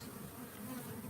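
Bees swarm at a hive, a dense, steady buzzing drone that fills the air close by, without talk.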